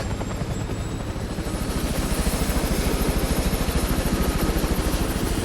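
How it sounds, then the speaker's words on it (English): A helicopter in the game Hitman lifting off, its rotor chop building into a loud, steady rhythmic thumping that grows stronger as it goes, alone without talk. "let's sneak our way over to the chopper and get out of here"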